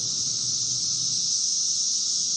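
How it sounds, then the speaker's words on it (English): Chorus of cicadas in the woods: a dense, continuous high-pitched buzzing drone, steady and fairly loud, with no breaks for the whole couple of seconds. "So I took a quick video of just the little bit of woods near my mother-in-law's, and you get a chance to hear what sound is."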